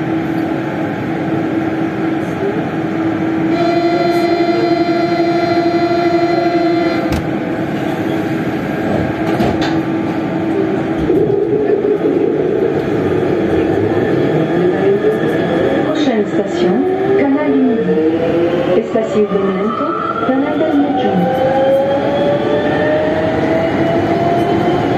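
Siemens VAL 208 metro trainset running between Borderouge and Ramonville, a steady rolling rumble with rising and falling electric motor whine, close and continuous throughout, with people talking over it.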